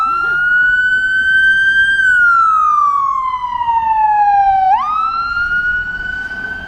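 An ambulance siren wails loudly and close by on a historic downtown street, its pitch sweeping slowly up and down and dropping sharply as the vehicle passes.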